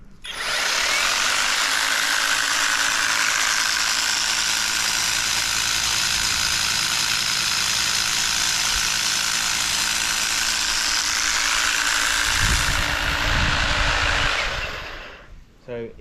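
An Ego multitool with its hedge trimmer attachment runs at speed 2, making a steady, close, high-pitched motor whine. Near the end a low thump sounds, then the whine winds down and stops.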